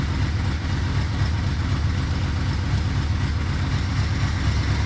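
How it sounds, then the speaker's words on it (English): A cold Yamaha Vmax engine idles with the choke partly on at about 1,000 rpm, a steady, close and fairly loud low rumble that runs unbroken with no talking. "so it's ticking over now, it's still cold"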